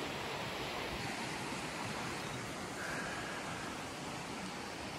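Floodwater rushes down a swollen Appalachian mountain creek, a dense, steady roar of churning water that stays constant and fairly loud throughout, with no one speaking.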